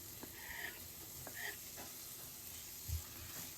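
Chopped onions hit hot oil in a pan for a Thai yellow curry, giving a faint, steady sizzle with a few soft clinks of a utensil.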